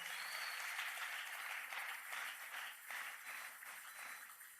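A church congregation at a prayer marathon applauding for the Lord, a dense, continuous wash of many hands clapping at a steady level, heard from a distance and fairly faint throughout.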